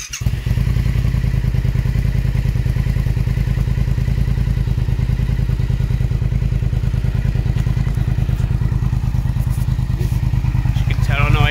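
A Triumph Speed Twin motorcycle fitted with a TEC X-pipe exhaust idles steadily nearby, a loud, even, thumping engine pulse with mechanical clatter running continuously throughout.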